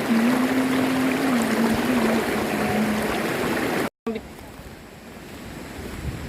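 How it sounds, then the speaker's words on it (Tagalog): Balanac River water rushes and flows steadily nearby, a broad continuous wash with a faint tone early on, briefly cut off before resuming more softly. "nakaka-relax talaga yung tunog ng agos ng tubig"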